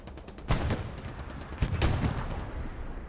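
Distant booms and blasts from Axis artillery fire in an online multiplayer WWII-style match, with two heavier impacts standing out from a steady rumble of battlefield noise.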